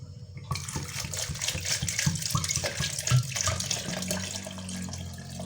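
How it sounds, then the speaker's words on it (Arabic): Water is poured into a container with strawberries and lemons, including the lemon peel, while making juice. The stream runs loud and close with a splashing, gurgling rush that holds steady for several seconds. "غادي ندير الماء، نضيف الماء"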